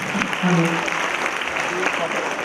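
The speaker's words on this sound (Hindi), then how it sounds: "जोरदार तालियां हैं बच्चों के लिए" An audience claps loudly for the children at an Islamic quiz contest, a steady wash of applause under a voice speaking from the stage.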